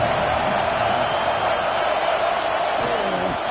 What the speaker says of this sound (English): Now you're going to need this home crowd to get loud and play some defense with them.